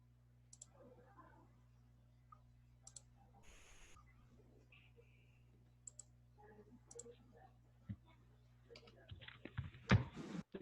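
Computer mouse clicks on a desktop running Linux while a file is saved: several sharp, isolated clicks spread across the moment, close and fairly quiet, with faint background voices and a steady low hum underneath.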